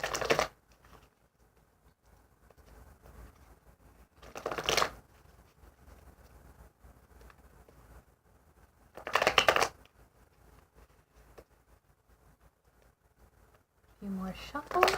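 Tarot cards are shuffled in short bursts, three or four quick riffles separated by quiet pauses, close and crisp, with a voice speaking softly in between.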